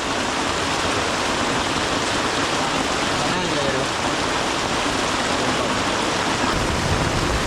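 Heavy rain pours down in a forest, a dense, loud, unbroken hiss of drops on leaves and surfaces that fills the whole stretch with no letup.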